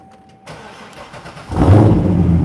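An LS7 V8 with Borla exhaust fires up with a sharp start, then settles into a loud, deep rumbling rev that fills the rest of the clip.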